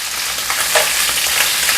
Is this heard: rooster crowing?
no